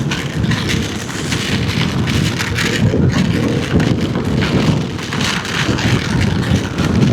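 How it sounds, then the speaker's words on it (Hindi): Heavy rain pours down during a motorcycle ride toward Palghar, a loud, dense, steady hiss and patter close by with scattered drumming gusts and no talk throughout. "तो ज़ोर से बारिश हो रहा है।"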